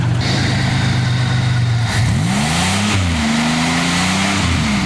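A car engine keeps running with its battery disconnected, a loud, steady close drone whose pitch dips and then rises into a higher, wavering hum midway through.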